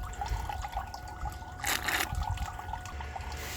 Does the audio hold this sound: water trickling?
yes